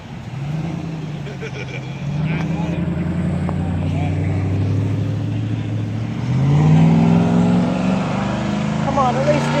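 A Mazda Miata's engine revs at the end of a car show, a steady rumble that rises in pitch and loudness near the end. Crowd voices shout and chant over it.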